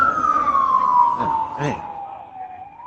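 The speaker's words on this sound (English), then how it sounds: "So, just let this ambulance go by." Ambulance siren passing outdoors, a loud wailing tone that slowly falls in pitch as it goes by, with rumbling traffic beneath and someone speaking briefly over it.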